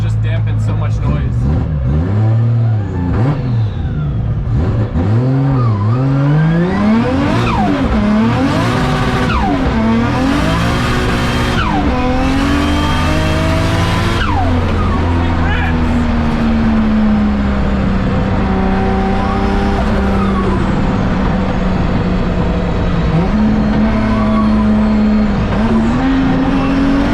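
A Mitsubishi Evo 5 with an aftermarket lightweight flywheel drives at full volume, its engine rising and falling through repeated revs and shifts, while a loose clutch-rattle chatter runs under a voice talking throughout.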